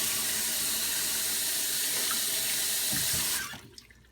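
Running tap water rinses a Suehiro sharpening stone in a sink, a steady hissing splash for a few seconds that cuts off abruptly, leaving a few faint drips.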